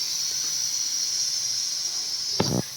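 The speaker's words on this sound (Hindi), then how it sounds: "तो इसका प्रेशर निकाल दिया है बिल्कुल।" A kitchen pressure cooker of carrots hisses out steam as it is opened, a steady, loud, high whoosh running throughout, with a short burst of a lower rushing puff near the end and no talking.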